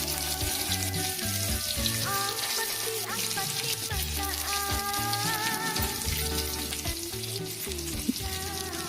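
Ground spice paste for Banjar Habang noodles sizzling and frying in a pan, a steady close crackle and hiss holding evenly throughout, with faint background music tones.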